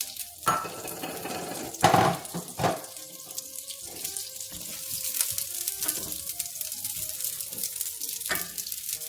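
Butter sizzles in a cooking pot, a continuous bright crackle and hiss with a few louder clanks of the lid and utensils early on, close and steady throughout.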